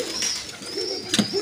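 Pigeons coo nearby in short, soft, throaty phrases, with a few overlapping calls across a brief stretch.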